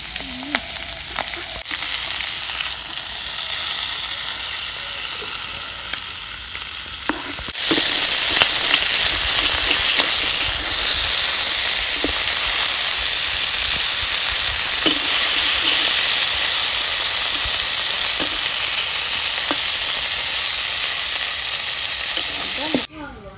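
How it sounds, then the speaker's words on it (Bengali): Pieces of a large boal catfish frying in hot oil give a loud, dense, continuous sizzle that briefly softens early on and then surges and holds steady until cutting off at the end, with no talking. "মাছ আমার ভাজা হইছে"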